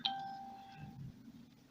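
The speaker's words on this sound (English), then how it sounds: "excuse my phone going off" A mobile phone goes off at a flooded campsite with a short electronic chime that starts sharply and fades over about a second, followed by a low muffled rumble of background noise.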